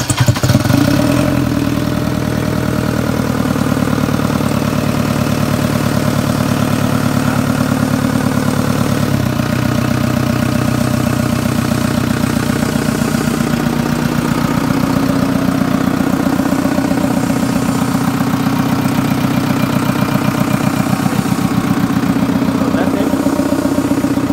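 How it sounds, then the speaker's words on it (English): A JCB 3DX backhoe loader diesel engine idles steadily in a workshop just after a fuel injection pump replacement, a loud, even low rumble that continues unbroken with faint speech underneath. "this time start the engine consistently"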